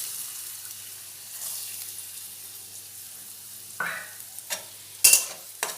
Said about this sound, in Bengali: নারকেলগুলো একটু ভালোভাবে ভেজে নেব